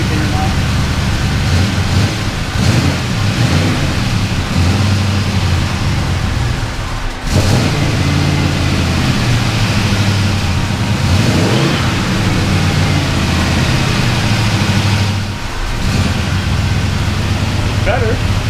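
Twin-turbo LS engine idling and running after a fuel pressure change, a loud continuous low rumble with slight rises and dips in pitch, steady throughout with brief pauses in intensity.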